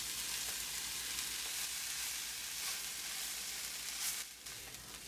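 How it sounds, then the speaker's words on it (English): A vegan tofu mixture sautéing in a pan, giving a steady, dense sizzle with faint scraping from stirring, continuous throughout and easing slightly near the end. "Now I'm going to add the tofu mixture and I'm going to stir it all together."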